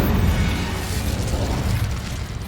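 An Incendio fire spell cast in the Hogwarts Legacy video game: a loud, continuous roaring burst of flame with deep rumbling, sustained steadily throughout with no pause.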